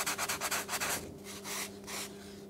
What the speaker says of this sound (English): We're just now going to move on to sanding some of the finer details.